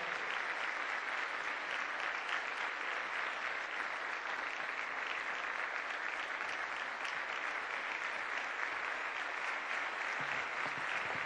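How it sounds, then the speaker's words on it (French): Audience applauding a president's arrival at a gathering: dense, steady, sustained clapping from a large crowd, fairly distant and even throughout, with no distinct voices. "Avec nos ovations bien nourries,"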